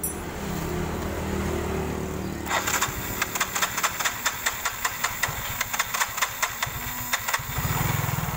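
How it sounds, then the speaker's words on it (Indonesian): Yamaha Mio scooter engine starts after a quiet stretch and settles into a close, loud idle with rapid even knocking pulses from its small single cylinder. "kita sambil hidupkan motornya"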